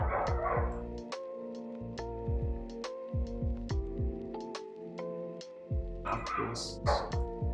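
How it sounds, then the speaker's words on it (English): Several dogs barking and yipping nearby in quick, irregular bursts, with some whimpering, heard indoors alone without talk. "doggies are going nuts"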